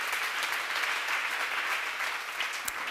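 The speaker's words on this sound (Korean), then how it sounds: "박수." Audience applause at a church seminar, a steady, dense wash of many hands clapping together for about three seconds with no speech over it.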